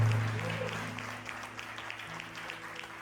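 Church congregation clapping for two people standing at the front during a service, moderately loud sustained applause with a low hum beneath and no talking.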